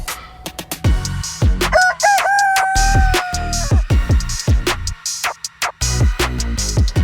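Chickens cluck and squawk loudly in a fenced woodland run while a rooster crows a long, clear cock-a-doodle-doo in the middle, with sharp bursts of hen calls before and after.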